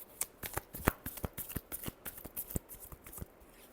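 A deck of tarot cards is shuffled by hand at close range, a quick run of crisp riffling snaps and flutters, fairly soft overall, with no talking.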